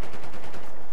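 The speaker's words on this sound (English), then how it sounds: "They're shooting at me." Rapid automatic gunfire in Battlefield 4 on the Siege of Shanghai map: a quick, loud string of evenly spaced shots that runs for about a second without pause.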